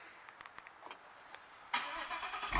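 A 2015 Ford Mustang GT V8 engine fires up by remote start, with faint clicks before a sudden loud catch that settles into a rumbling idle, heard close.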